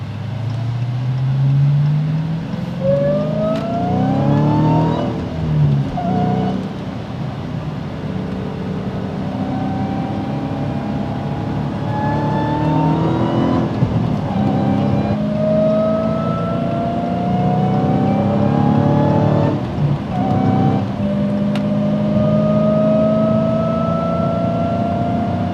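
A Dodge Hellcat cruises along a highway with a steady road rumble and engine drone, pitch rising as it gains speed, heard from inside the cabin.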